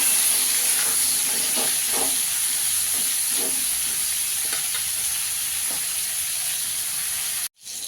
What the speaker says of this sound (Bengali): পটলটাকে ভালো করে ভেজে নিতে হবে।